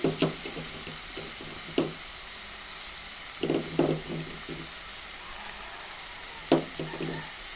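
Garlic and cumin sizzle in hot oil in a pan, a constant hiss broken by occasional knocks and scrapes of stirring.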